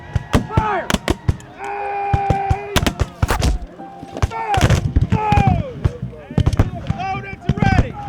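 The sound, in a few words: Civil War reenactment musket volley fired on command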